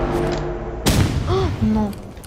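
A single sharp sniper rifle shot from a video game cracks out loud and close, followed by a brief rumbling echo, while a voice talks over the game sounds.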